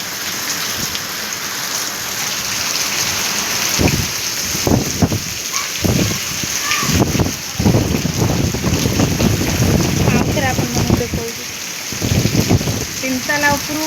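Heavy rain pours steadily and floods into a home, a dense hiss over wind buffeting, with occasional knocks and handling bumps in between.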